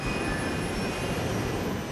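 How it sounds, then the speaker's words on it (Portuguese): A Fokker 100 jet airliner accelerating down the runway for takeoff, a loud, steady, broadband engine roar with a thin high whine running throughout, no voices. "Conforme o avião acelera na pista"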